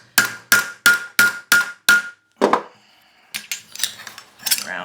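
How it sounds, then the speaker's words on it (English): Metal cuff bracelet hammered on a mandrel: six sharp, evenly spaced ringing strikes close up, then a pause and a few lighter, irregular taps and scrapes. "I'm also hammering it on a smaller part of the mandrel than my actual size will be"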